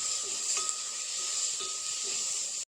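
Chilli powder and seven or eight crushed peppercorns sautéing in a pan for an egg curry, a steady soft hiss with faint stirring taps that cuts off abruptly.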